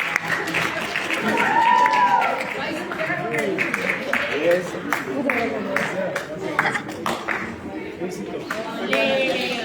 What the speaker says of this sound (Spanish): Le damos un fuerte aplauso y agradecimiento.